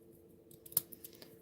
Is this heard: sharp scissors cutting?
yes